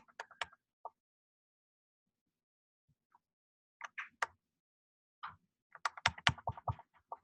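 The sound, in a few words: typing on Apple butterfly laptop keyboard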